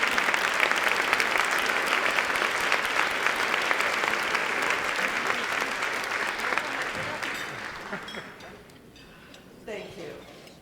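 Sustained audience applause at a community gathering honoring people who provide services to families, dense and steady for several seconds before thinning out into scattered claps and quieting near the end.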